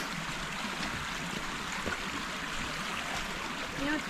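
Shallow stream water flowing steadily in a wooded state park valley, a soft continuous rushing wash close by with no talk over it.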